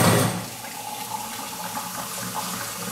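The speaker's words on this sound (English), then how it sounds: "So we're gonna have a boil and we're gonna fill it up with water." Water running from a tap into a bowl, a steady rushing splash that starts loud and settles into a continuous fill.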